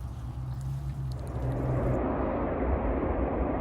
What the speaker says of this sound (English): you can hear a train going by